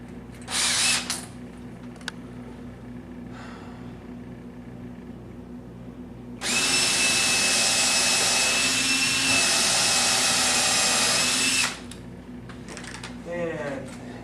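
Power drill driving a countersunk screw while a coffee station is replaced in an office building: a loud, steady whirring burst of about five seconds, preceded by a brief shorter burst and handling noise.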